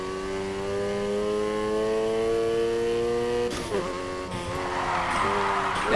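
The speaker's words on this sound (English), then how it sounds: "You're drifting." In the video game Need for Speed Heat, a car's engine climbs in a steady rising drone, then the tires squeal and skid loudly as it slides into a drift under the continuing engine noise.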